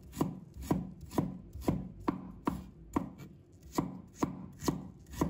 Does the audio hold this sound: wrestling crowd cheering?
no